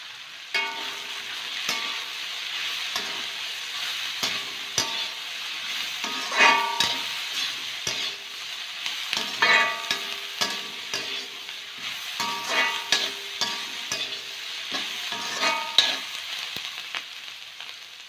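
Onions sizzle and fry steadily in a pan while cooking Pallipalayam mutton, a soft, constant crackle broken by occasional stirring clatters throughout.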